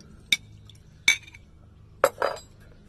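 A spoon stirs spiced rum in a glass with a few sharp, bright clinks against the glass, four separate taps about a second apart, close and clear over a quiet room.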